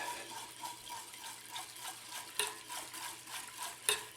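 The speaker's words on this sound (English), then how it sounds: "Mix that up." A utensil stirs a water and melted silica gel mixture in a container while sodium silicate is being made, giving soft rhythmic swishing and sloshing with two sharper clinks against the vessel, close and quiet.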